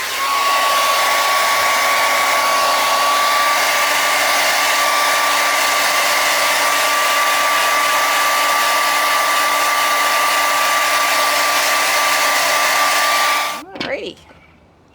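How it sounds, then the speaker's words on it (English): A handheld blow dryer blows water off a resin tumbler with a hydro-dip printed vinyl decal, producing a loud, steady whooshing roar with a constant whine that runs unbroken for about thirteen seconds before clicking off. "I'm going to hit it up with my blow dryer and blow some of the water off."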